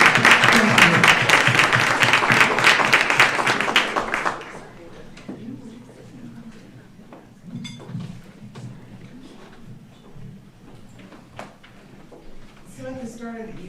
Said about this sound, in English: Please give them a round of applause and welcome them.